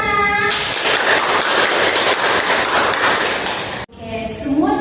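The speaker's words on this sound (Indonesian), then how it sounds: "tepuk tangan" Seminar audience breaks into steady applause, a dense wash of many hands clapping loudly for several seconds before cutting off abruptly, with a voice starting to speak right after.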